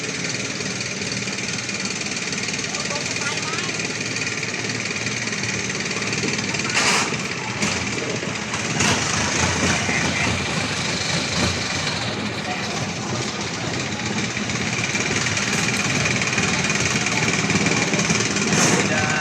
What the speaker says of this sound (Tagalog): grabe yung andar ng makina